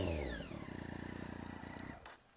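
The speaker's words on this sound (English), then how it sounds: "Let's listen to that exhaust." A 2014 Triumph Daytona 675R exhaust burbles close by in quick, even pulses as the revs fall from a high note and settle, ending in a quieter idle.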